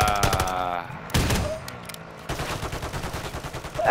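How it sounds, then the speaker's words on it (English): Rapid bursts of gunfire from the video game Call of Duty crackle in repeated volleys, loud and close, with a brief pause mid-way before another sustained stretch of shots; people talk over the action. "Oh, they're shooting."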